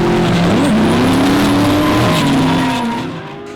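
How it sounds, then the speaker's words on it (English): A V8-powered Nissan Silvia drift car at a D1NZ drifting championship round in Christchurch, its engine note loud and close, rising and falling with tire squeal, then fading away near the end. "the V8 powered Nissan Silvia pulling a gap with an easy win into the top 8"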